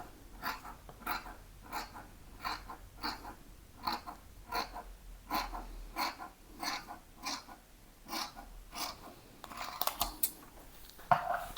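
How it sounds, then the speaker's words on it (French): Scissors cut through fabric for a skirt's pocket lining, giving a steady run of about a dozen crisp, close snips spaced roughly a second apart, with soft rustling between them. "c'est le fond de poche que je découpe"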